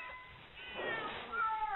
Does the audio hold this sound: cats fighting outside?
yes